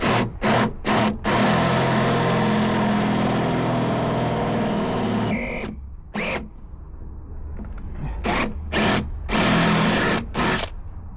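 A power drill whines loudly in several bursts, a long continuous run grinding into the metal of a van's rear doors, then shorter stop-start pulses with quiet gaps between.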